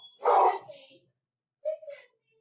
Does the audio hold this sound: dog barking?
yes